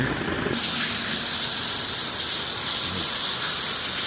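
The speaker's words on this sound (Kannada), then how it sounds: "ಒಳ್ಳೆ ತುಂಬ ಜೋರಾಗಿ ಮಳೆ ಬೀಳ್ತಾ ಇದೆ" Heavy early-morning rain pours steadily in Kolar, a dense continuous hiss of water with streets flooding, loud and unbroken throughout with no voices.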